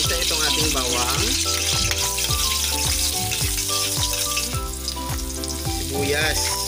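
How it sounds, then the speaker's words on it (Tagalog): Garlic sautéing in hot cooking oil in a wok, with a steady bright sizzle running throughout beneath louder background music with a thumping beat. "Una po natin igisa itong ating bawang,"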